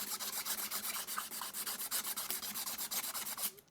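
Sandpaper rounding the top of a fret on a Harley Benton ST-20HH electric guitar, a quick rhythmic series of close, bright rasping strokes, about five per second, ending abruptly, with no voices.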